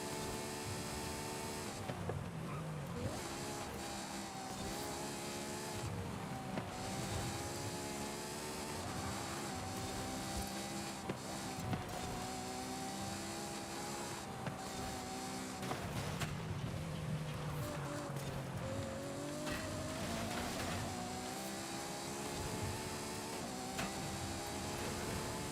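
A race car at full throttle on a fast lap of The Wozz circuit, its engine droning loud and steady throughout, rising and falling in pitch through gear changes and corners, with no voices over it.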